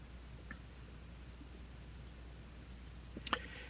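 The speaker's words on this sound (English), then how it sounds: "So I'm going to click on it." A couple of quick, faint computer mouse clicks near the end of an otherwise quiet stretch with light background hiss, as a button is pressed in a code editor on a computer.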